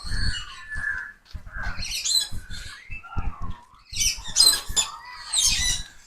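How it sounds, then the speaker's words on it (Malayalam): Many birds call together in a zoo aviary in Kochi, a dense mix of harsh squawks, caw-like cries and bright chirps overlapping continuously at close to moderate distance, loudest in bursts toward the end. "കുറെ അധികം കിളികളും ഉണ്ടല്ലോ."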